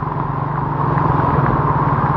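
A motorcycle engine idling in a flooded Dhaka street after heavy rain, a steady low rumbling drone with faint clatter, close and continuous.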